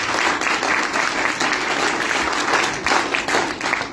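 An audience at an IMC business talk in India breaks into loud, sustained clapping that fills the room evenly for several seconds without any voice over it.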